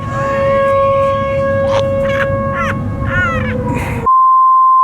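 A preheating pellet smoker's alarm, a loud steady electronic tone that holds for several seconds before jumping to a higher pitch, with caw-like bird calls in the background.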